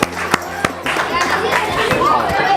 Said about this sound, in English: Big round of applause for an awesome game night